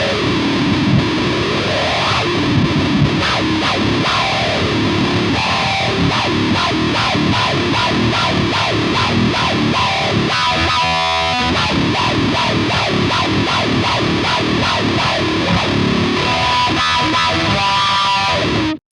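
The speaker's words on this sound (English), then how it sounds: "I want to see how a wah sounds with that low string." A heavily distorted nine-string electric guitar (Legator N9F) chugs on its low string while a wah pedal sweeps the tone, giving a growling, vowel-like quality throughout.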